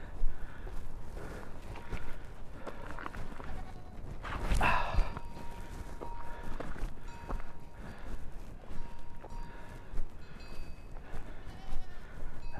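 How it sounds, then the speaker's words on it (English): Sheep-like bleating from a herd of goats passing on a path near Monastery Beach, Saranda, Albania, with scattered calls over a constant outdoor rumble and a brief loud burst midway; a dog may bark faintly. "Looks to be the goat train coming."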